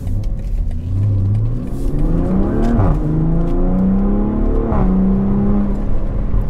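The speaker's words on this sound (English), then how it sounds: "And you get a nice little crackle." A sporty car in Sport mode accelerates hard on the Autobahn, its engine rising in pitch through two gear shifts, with exhaust crackles at each change; loud and close, with no talking.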